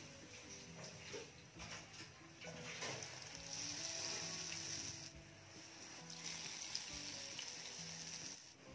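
Oil bubbles and hisses steadily as medu vadas deep-fry in a kadhai, a soft continuous crackle with faint kitchen clatter in the background.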